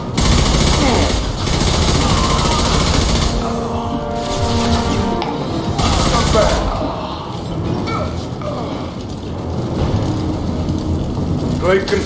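Heavy gunfire in the video game Mass Effect as Blue Suns mercenaries and Vorcha shoot: loud, dense bursts layered over game music and rumbling effects, with brief pauses between volleys.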